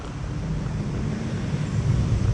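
Wind blowing at Marina in Singapore, a steady low rumble buffeting the microphone that builds slightly toward the end, with no voices.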